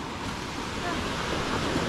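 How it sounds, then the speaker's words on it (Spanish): Ocean surf breaks on the beach at Playa del Carmen in a continuous, fairly faint wash of waves mixed with wind noise, heard without speech. "¿Habéis visto qué espectáculo las olas el día de hoy?"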